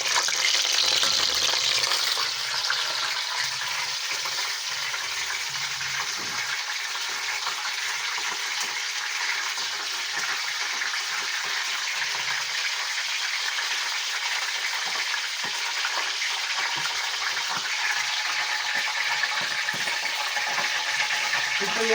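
Oil heats and fries in a kadai, a dense, steady sizzling hiss that holds at an even, fairly loud level for the whole stretch, with no talk over it.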